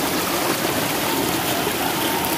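Cold water flowing in a mountain stream, a steady, dense rush and gurgle close by that continues unbroken throughout with no voices.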